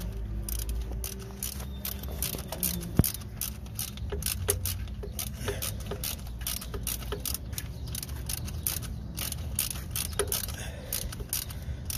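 Socket wrench ratcheting while a bolt is backed out of the starter on a Chevrolet Aveo, a steady run of quick metallic clicks repeating close up over the whole stretch, with no talking.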